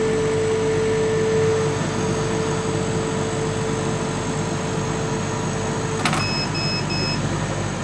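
A laser cutter works through 10mm acrylic on a pin base with a steady fan and air-assist hiss and a faint constant tone, followed by a few short electronic beeps near the end.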